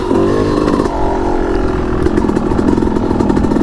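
Yamaha YZ250X two-stroke dirt bike engine on an off-road trail ride, close and loud, with a continuous raspy drone that rises and falls as the throttle changes and a constant clattering buzz.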